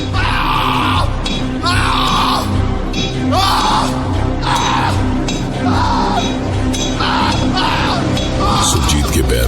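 A man screams and cries out repeatedly in pain, raw anguished yells coming in bursts of about a second each, loud and close over a dense, rumbling background.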